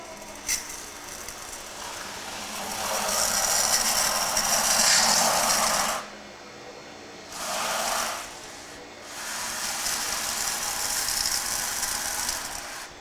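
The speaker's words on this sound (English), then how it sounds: "I'm just going to open the butterfly valve really slow." A butterfly valve on a beer unitank being opened slowly during force carbonation, giving a steady broad hissing rush of liquid and gas that swells, dips and returns in several long stretches, close and fairly loud.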